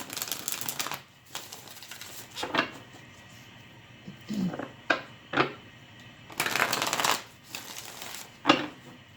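A deck of playing cards shuffled by hand for a tarot-style card reading, with several crisp riffling bursts separated by short pauses, close and fairly quiet.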